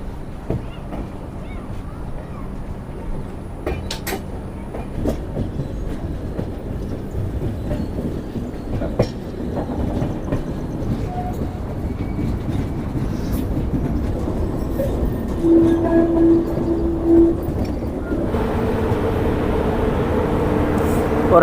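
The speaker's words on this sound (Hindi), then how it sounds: "और हमारी ट्रेन प्लेटफॉर्म नंबर 5 पर अराइव हो रही है।" The 14114 Subedarganj–Dehradun Link Express rolls slowly into a platform at Dehradun station with a continuous low rumble, faint clatter and wind buffeting, ending in a brief hum.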